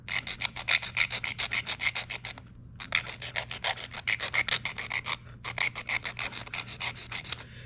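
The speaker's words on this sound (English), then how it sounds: "So the first thing I'm going to do is just take a file. Now this is a stainless steel rod" A hand file rasps across the end of a stainless steel rod to round it over, part of a fuel sending unit for a David Brown 880 tractor: close, steady back-and-forth strokes in three runs separated by short pauses.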